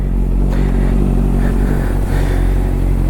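Honda CBR650 motorcycle engine just started and warming up, a steady loud idle rumble with a slight blip near the start, close by and continuous with no voices.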